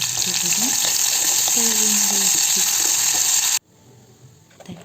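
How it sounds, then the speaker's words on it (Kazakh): Onions frying in boiling oil for a light summer salad, a loud, close, steady sizzle that runs unbroken for several seconds and then cuts off abruptly into quiet background. "Жуаларымызды қайнап тұрған майға салып, аздап майда қуырып аламыз"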